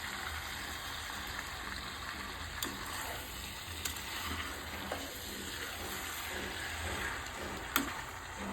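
Country chicken curry frying in a pan gives off a soft, steady sizzle, with a few faint clicks and scrapes as it is turned over from side to side.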